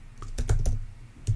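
A git push command is typed on a lab computer keyboard as a quick close burst of clacking keystrokes, heard alone and without speech.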